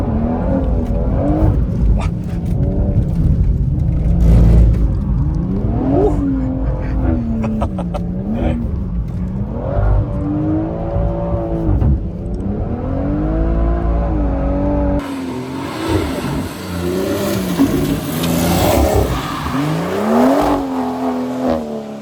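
A BMW M140 held sideways in fourth gear during hard drifting on a track, its engine droning and rising and falling in pitch with revs, loud and close, shifting to a rougher tone near the end.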